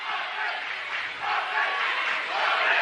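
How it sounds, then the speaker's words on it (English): The Prairie Grove cheering section roars at a girls' high school basketball game, a loud, sustained crowd of shouting and cheering voices that swells and stays loud throughout. "Prairie Grove cheering section getting loud."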